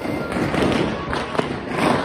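Firecrackers bursting during Diwali festivities, a dense crackling din with a sharper pop partway through, heard under nearby voices.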